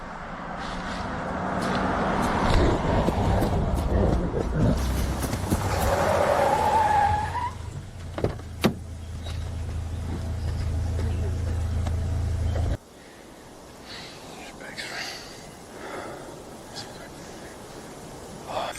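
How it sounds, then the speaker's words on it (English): A car approaches through a forest with rumbling engine and tire noise, slows and pulls over to a stop, its idle cutting out before a quieter stretch. "A car just pulled over."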